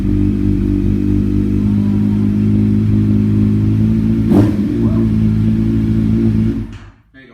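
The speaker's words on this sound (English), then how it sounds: "we are going to start one of the bikes because a spring sound is nice" A motorcycle engine rumbles loudly and close in a home garage, holding a steady low idle with a brief sharp clatter midway before the sound drops away abruptly at the end.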